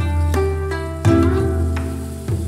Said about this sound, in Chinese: 倒入鸡丁，快速翻炒